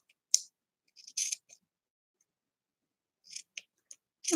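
Scissors snip through craft embellishments in a few short, crisp cuts separated by silent pauses, close and quiet, with no talking.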